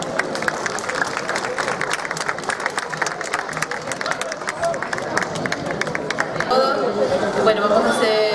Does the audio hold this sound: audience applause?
yes